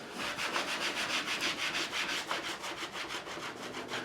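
Chamois leather rubbed briskly back and forth over the fingerboard of a Gretsch G5422 12-string guitar during a refret, a steady close-up swishing rhythm of about seven strokes per second with no talking.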